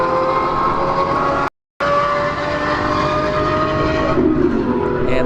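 A Lamborghini Gallardo roars down a drag strip, a loud sustained engine drone with a brief dropout, then the note shifts near the end.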